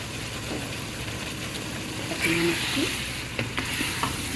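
Chicken kosha with ginger-garlic paste, spices and a sweet fried-onion masala sizzles steadily in a pan while it is stirred, with a louder scraping stir near the middle and a few sharper clinks toward the end.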